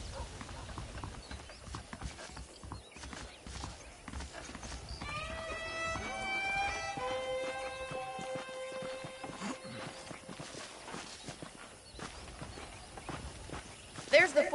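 Horse hooves clip-clop at a steady walking pace in Red Dead Redemption beneath ongoing talk, with a tonal game melody and occasional ambient noise in the background.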